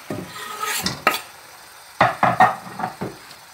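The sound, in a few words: chopped herbs added to a pan of mussels and prawns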